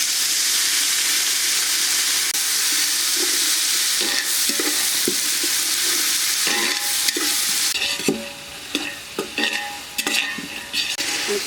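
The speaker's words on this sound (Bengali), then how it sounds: "তৈলের সাথে সুন্দরভাবে কষিয়ে দিলাম।" Spices fry in hot oil in a village kitchen, giving a continuous loud sizzle and hiss broken by the scraping clatter of stirring, which grows busier toward the end.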